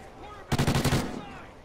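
A short rapid burst from a Vector CRB submachine gun in the video game Call of Duty: Ghosts, about half a second of fast, loud, close shots over a quiet game backdrop.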